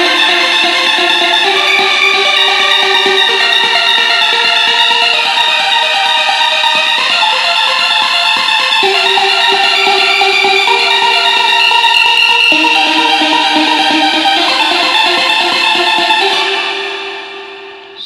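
Arpeggiated synth notes from an electronic music track run in a dense, steady stream of bright tones over sustained harmony, loud and continuous before fading out at the end.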